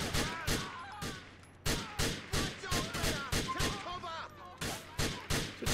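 Video game GTA IV shootout: a rapid series of sharp, loud gunshots fired one after another in an uneven rhythm, with speech in between.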